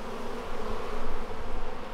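Honeybees swarm in a dense, steady buzzing hum around an open hive being split, the drone swelling slightly midway and holding close and constant throughout with no voices.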